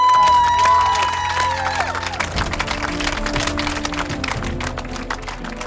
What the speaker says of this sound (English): You are worthy of the biggest applause.